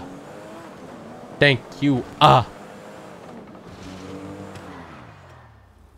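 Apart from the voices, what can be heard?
Porsche car driving in GTA 5 video game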